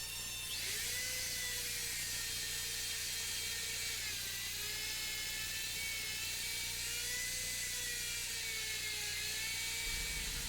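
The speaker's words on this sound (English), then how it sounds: "The first cut is made at the foot of the post using the 2-inch triple classic plunge bit." A router fitted with a 2-inch triple classic plunge bit cuts into a turning wooden bed post, giving a steady, loud high-pitched whine with a slowly wavering tone that holds for the whole stretch, close by and with no talk over it.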